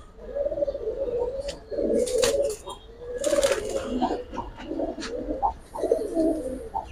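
Pigeons coo at a market stall, several low rolling calls repeating in close succession, with sharper clicks and bursts of handling noise between them and someone talking intermittently nearby.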